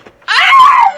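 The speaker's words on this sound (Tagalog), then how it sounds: "May babaeng sumigaw?" A woman lets out one loud, drawn-out scream that rises and then fades, heard alone in a Filipino manananggal horror tale.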